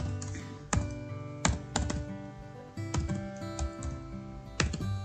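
Computer keyboard typing in uneven bursts, sharp individual key clicks and clacks up close over a faint hum and musical tones, with no talking.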